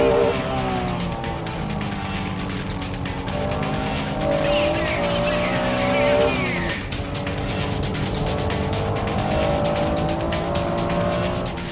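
A Honda NSX-R race car engine revs hard and climbs through the gears accelerating out of a corner, loud and close, with rising and falling harmonic engine tones and a brief tire squeal, under a voiceover.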